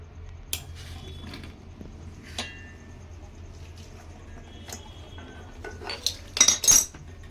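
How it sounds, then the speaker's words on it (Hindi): Adjustable wrench working a gas cylinder valve on a double door fridge during evaporator flushing: scattered metallic clinks and scrapes, a few sharp taps and a louder rattling burst near the end, fairly close. "छोटा वाला एडजस्टेबल से इसके वॉल को खोलना है"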